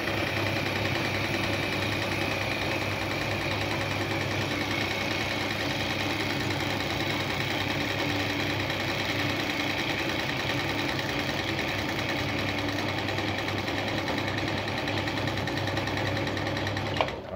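A black Singer 319K sewing machine runs steadily while winding a bobbin, a continuous close mechanical whir and hum that holds for about seventeen seconds with no talking.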